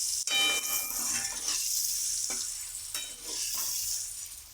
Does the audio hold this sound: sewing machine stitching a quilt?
no